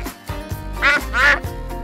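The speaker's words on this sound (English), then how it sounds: "Duck." Two loud, nasal quacks from a farm duck come in quick succession near the middle, close up and clear, with soft background tones around them.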